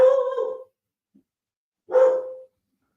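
A dog gives two short, close whining barks with a plaintive, whimpering tone, separated by a brief silence, in a quiet house.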